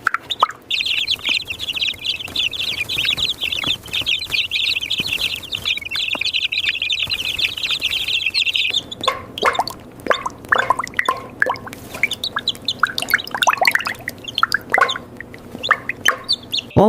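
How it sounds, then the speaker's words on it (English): Two-week-old chicks on a pasture-raised meat chicken farm chirp steadily and densely, a flock of peeping near and loud, shifting partway through to scattered, more varied calls and clucks. "These are 2-week-old chicks, and in about 10 days, they will be moved to the pastures to start a new life."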